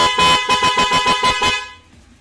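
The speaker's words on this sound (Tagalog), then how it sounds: "Busina natin, ha?" A Yamaha Mio motorcycle horn honks in a rapid series of short, loud beeps, about seven in a row, then stops, leaving a low hum behind.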